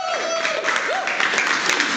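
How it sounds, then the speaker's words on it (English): Audience applause at an engagement retreat: a steady, dense wash of clapping throughout, with a faint wavering tone sliding above it. "Let's give a round of applause for all of our speakers here today."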